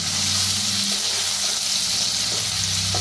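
Bitter gourd tempering with crushed green chili, garlic and coriander fries in a pan, giving a loud, continuous sizzle with a steady hiss that never lets up.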